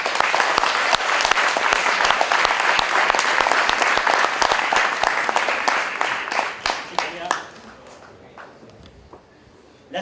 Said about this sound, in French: Je vous demande d'applaudir très fort Tania Kassam-Chenaï.